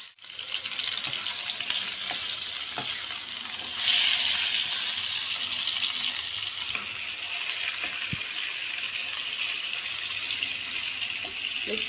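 Liver frying in a pan with garlic and peppers, a steady close hiss of sizzling oil that holds evenly throughout, with a few faint clicks and no talking.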